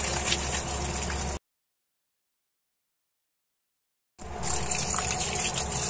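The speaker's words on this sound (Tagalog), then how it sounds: "Drain lang po natin ang ating pasta." Water gushes and splashes as cooked pasta is drained for a creamy pesto chicken dish. The pour is loud at the start, cuts out into silence, then resumes.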